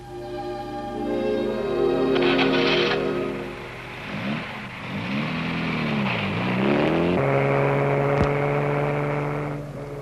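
A Jaguar E-Type (XKE) sports car drives through turns near Monte Carlo, its engine droning and rising and falling in pitch as it slows into bends and accelerates out, a close, continuous whir with no talk.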